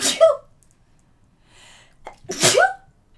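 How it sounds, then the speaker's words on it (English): A person sneezes twice with a sharp, close burst at the start and another louder one near the end, separated by a quiet pause with a short intake of breath. "Oh, she's gonna make me sneeze."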